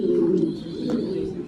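Pigeons coo at a pigeon farm, a low continuous murmuring close by with a faint higher chirp, while a person talks in the background.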